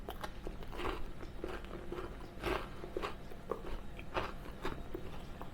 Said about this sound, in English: So I'm going to take a bite of the cookie.